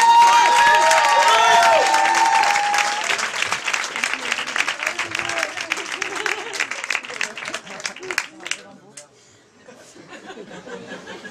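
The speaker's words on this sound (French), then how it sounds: "on vous demande de faire un tonnerre d'applaudissements" A studio audience at a French literary variety show applauds to welcome a performer, a loud sustained wash of clapping with some cheering that gradually thins and fades toward the end.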